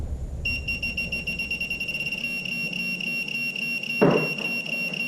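A Minelab Pro-Find 35 metal detector pinpointer gives its ferrous target tone, a high electronic beep in a fast, even pulse, with a brief rustling scrape near the end.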